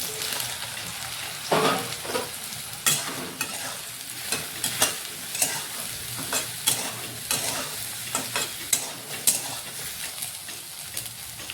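Soybean chunks fry in hot oil in an Odia home kitchen while a spoon stirs them, producing a steady close sizzle broken by repeated sharp scraping strokes against the pan.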